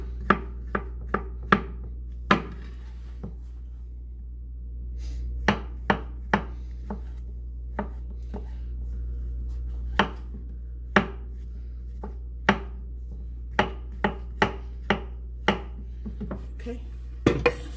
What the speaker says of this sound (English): So this is how roughly I'm chopping the mushrooms